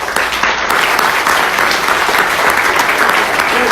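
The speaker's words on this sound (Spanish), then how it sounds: "Denles un aplauso." A church congregation breaks into loud, continuous applause after a prayer, dense and steady from start to finish, with faint crowd voices beneath.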